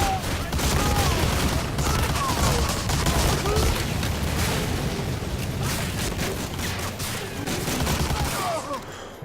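Thompson submachine gun fire in Medal of Honor Allied Assault, dense rapid bursts and booms of battle running continuously and loud throughout, with other gunfire mixed in.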